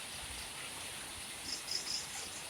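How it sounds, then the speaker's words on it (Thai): Steady soft hiss of morning rain falling in Thawat Buri, Roi Et, Thailand, faint and continuous, with a few brief high chirps near the end. "ฝนก็ ยังตกอยู่นะครับ"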